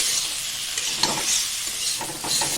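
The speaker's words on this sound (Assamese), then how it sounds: "সৰিয়হ বেছি টাইম ভাজিব নালাগে, এনেই অকণমান ভাজি দিলোঁ।" Mustard paste sizzles and crackles in a hot pan while being stirred, a loud steady frying hiss with brief scraping stirs, close up and without talk.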